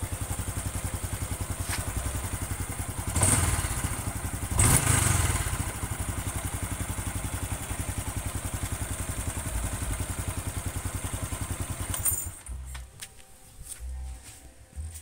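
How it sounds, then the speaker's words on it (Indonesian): A 2022 Honda Supra X 125 motorcycle idles close by, its exhaust giving an even rapid putter with a couple of brief revs, then falling quieter near the end. "knalpot Supra ini saya suka"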